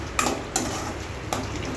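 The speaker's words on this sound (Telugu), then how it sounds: "తాలింపులు కూడా ఒకసారి కలుపుకోవాలి." A spoon stirs tempering spices frying in oil for tamarind rice, giving a steady close sizzle broken by three short scraping clinks against the pan, with no talk.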